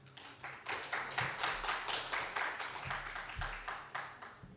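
An audience claps at a debate, a moderate, steady patter of many hands held for several seconds at medium distance, with low thumps underneath and no speech.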